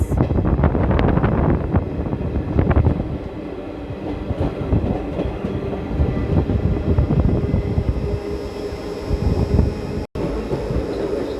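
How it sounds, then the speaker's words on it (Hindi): Cool wind rushes past during a ride on the Narsapur–Nagarsol Superfast Express, buffeting loudly over the constant rumble and clatter of the moving train's wheels and coaches. "ठंडी ठंडी हवा चल रही है।"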